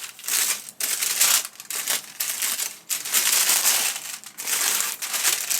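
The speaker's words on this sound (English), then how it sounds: "I'm just going to unwrap it." Plastic packaging around a designer item is peeled and unwrapped up close, making continuous crinkling and rustling in uneven bursts with a few brief pauses, no voices.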